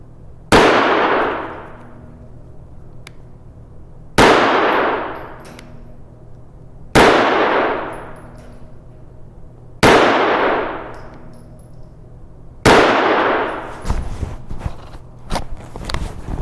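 A Keltec Sub 2000 carbine fires five loud, close shots spaced a few seconds apart, each with a ringing decay, then a quicker cluster of sharper cracks and clinks follows.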